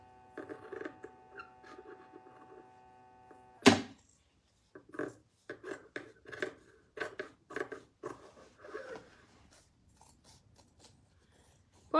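Scissors snip through fabric for a small sewn pouch, a long run of close, crisp cuts in quick uneven bursts after one sharp opening click, heard alone in a quiet room.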